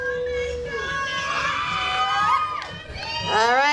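Crowd at a Tahitian dance competition cheers and shrieks for the dancers, high excited whoops and shouts swelling and dipping, with a voice calling out over the noise.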